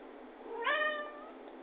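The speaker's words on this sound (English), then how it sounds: "Sorry, that is my cat in the background." A house cat gives a single short meow in the background, rising then falling, moderately clear against a quiet room hum.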